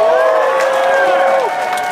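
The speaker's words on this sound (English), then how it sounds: "So clap for yourself one time" A concert crowd at a show at the House of Blues roars with sustained cheering, whoops and scattered clapping, steady and loud throughout, tailing off slightly at the end.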